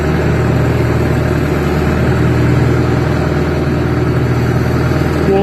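A skidder engine idles steadily and loud at close range, holding a continuous low rumble throughout with a slight rise in throttle as it prepares to winch a log.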